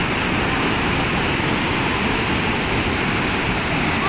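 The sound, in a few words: water released from dam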